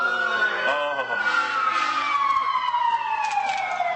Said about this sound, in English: wait for the siren to go by